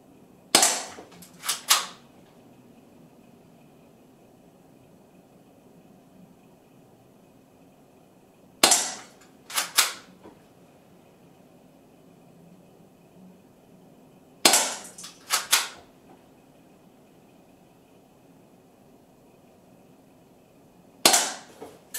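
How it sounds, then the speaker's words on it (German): Shots from an Umarex USP Compact spring-powered airsoft pistol, fired in groups of sharp, snappy cracks, each group followed by a brief pause, with quiet gaps between them. "dann ballern wir gleich 4 Schuss mit der Elite Force nach"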